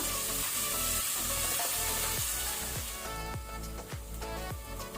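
Salted onions frying in a pan for brinjal biryani: a steady sizzle with repeated stirring strokes under background music.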